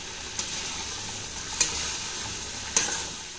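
Fish curry in a pan gives a steady soft sizzle and bubble close by, broken by three sharp clicks at regular intervals.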